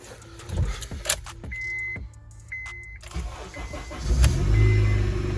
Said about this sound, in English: I just start up the car and test that part